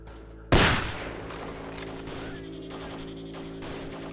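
A single loud gunshot in STALKER: Call of Pripyat cracks sharply near the start, then a long reverberant tail fades into a steady hum of game ambience.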